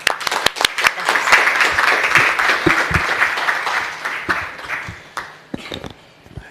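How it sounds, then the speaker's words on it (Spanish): An audience at a university talk on digital consumer rights gives warm applause welcoming a speaker, loud and dense at first, then thinning into scattered individual claps as it fades. "lo recibimos con un caluroso aplauso"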